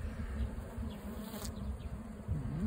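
Honeybees buzzing on a capped brood comb while a beekeeper inspects a hive calmed with a smoker: a soft, steady swarm hum that stays faint and close, with no talking.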